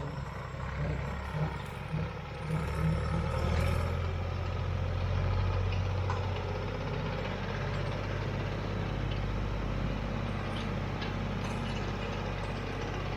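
A tractor engine runs steadily at a homestead, a continuous low mechanical drone with an unchanging rhythm throughout. It is moderately loud and heard alone, without voices.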